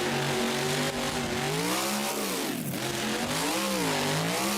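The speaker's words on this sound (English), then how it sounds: "we're just driving crazy in this Gravedigger here" Gravedigger monster truck engine in BeamNG Drive, revving loudly and continuously with rising and falling pitch as the truck accelerates and eases off during a freestyle at Lucas Oil Speedway.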